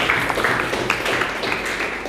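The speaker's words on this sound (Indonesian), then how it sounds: "Tepuk tangan buat Nandin." A classroom of students claps for a classmate at a school lesson: a short, steady patter of many hands at moderate loudness, with a few sharper individual claps standing out.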